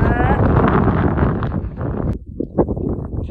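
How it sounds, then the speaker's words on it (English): Strong desert wind in Arizona roars against the microphone in a loud, continuous rumble with gusty surges. It eases slightly toward the end and is joined by a few sharp knocks. "It's so windy."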